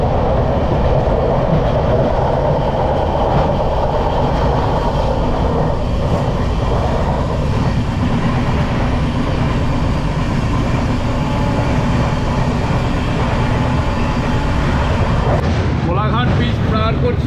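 Loud, steady rumble and rattle of the 12883 Rupasi Bangla Superfast Express in motion, heard from on board with continuous wheel and carriage noise throughout; a brief scraping shift near the end.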